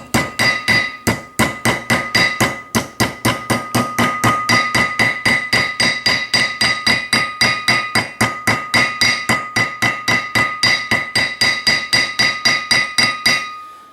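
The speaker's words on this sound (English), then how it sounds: "You'll hear the tone of the hammer change as you are striking the seal metal directly against the hub metal" A hammer strikes a metal seal onto the front wheel hub of a 1997 Ford E150 in a steady, rapid series of loud, ringing blows, dozens of them over several seconds, with no talking.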